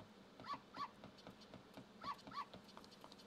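A dog in the Zelda Ocarina of Time video game gives two pairs of short, high whimpering yelps, faint and a little distant over quiet game ambience, with no talking.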